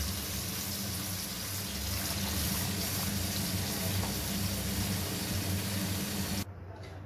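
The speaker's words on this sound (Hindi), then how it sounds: "अब इसमें डालने लगी हूँ जो मैंने लस्सी बनाई थी दही और बेसन से" Yogurt and gram flour lassi being poured into a pot of masala for Punjabi kadhi, heard as a steady, loud liquid rush and splash that runs without a break and then cuts off abruptly near the end.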